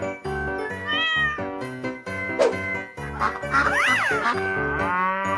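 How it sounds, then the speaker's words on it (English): A cat meows several times in a row, drawn-out rising and falling cries that are loud and close, with no pauses of silence between them. "Cat."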